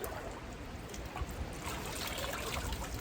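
Dense, steady trickling and dribbling of water as a wooden frame drum shell that had been soaking is lifted out, with continuous splashing and runoff filling the clip close by.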